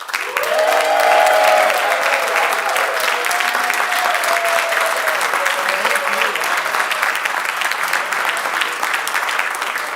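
A congregation at a humanist assembly applauds to welcome new members, loud sustained clapping from a full room that swells early and carries evenly to the end, with some voices mixed in.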